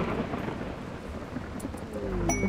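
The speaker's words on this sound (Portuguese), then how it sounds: "Tempestade." Thunderstorm in the video game Rimworld: steady rain hiss with low rumbling, swelling into a deeper thunder roll near the end, no voices.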